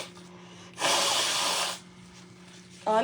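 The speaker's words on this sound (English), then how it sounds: "I was hoping I would not have to blow my nose" A person blows their nose once at close range, a loud breathy honk lasting about a second against a quiet room with a faint steady hum, followed by a brief voice.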